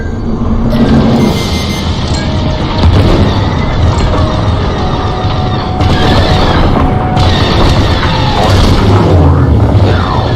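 Ship cores detonate in a Star Wars Squadrons space battle, heavy booming blasts and rumbling explosions layered over constant engine roar and laser fire, loud and dense throughout.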